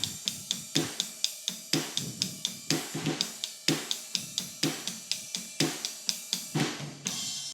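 A drum kit plays a song's groove, with steady sharp hits on snare and cymbals, a fill around the snare and floor tom, and a crash ringing out near the end, close and fairly loud without talking.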